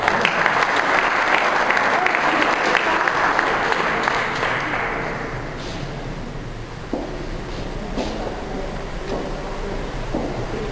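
Audience applause greets a baritone soloist at a sacred concert of the Passion, dense clapping fading after about five seconds into scattered claps and murmuring talk.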